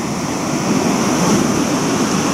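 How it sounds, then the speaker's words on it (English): Steady roar of surf washing onto a beach, a continuous broad wash of breaking waves with no voices, fairly loud and close. "The sound of breaking waves on the beach."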